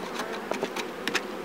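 Honeybees buzzing around traditional karakovan log hives during a honey harvest, with a fairly close, continuous drone and individual insects passing by in brief swells, no voices present.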